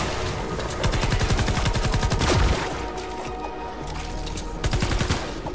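Rapid bursts of automatic gunfire in the video game Fortnite Save the World, loud and close, with sharp repeated shots and a brief lull before more firing resumes.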